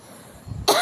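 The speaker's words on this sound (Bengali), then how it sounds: "প্রচণ্ড ঘাম থেকে কাশি হচ্ছে" A single sharp cough from someone suffering from coughing with heavy sweating, bursting out loudly at the very end after a brief low throat rumble.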